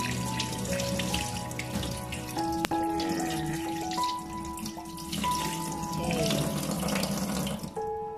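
Fish being rinsed under a running kitchen tap, with a steady splashing stream into the sink and a few faint clinks, close and continuous.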